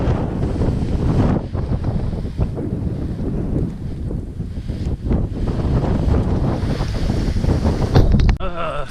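Strong wind roars across the microphone high on the Stelvio pass, a loud continuous buffeting rush with gusty surges throughout.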